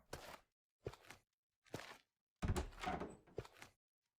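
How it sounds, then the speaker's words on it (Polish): A door in the survival video game After The War: a run of short, close thuds and knocks in separate bursts, with a longer clattering burst after a gap, as if someone is heading out. "Czemu słychać drzwi, jakby ktoś wychodził?"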